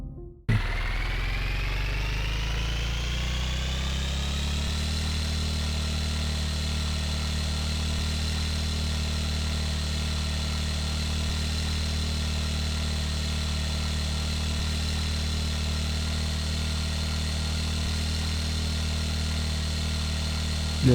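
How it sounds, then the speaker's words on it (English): Scooter or motorbike engine ridden in a Japanese video game, starting abruptly, climbing in pitch over a few seconds and then holding a steady, loud, even drone for the rest of the time. "we can head towards our scooter, motorbike thing, and ride off"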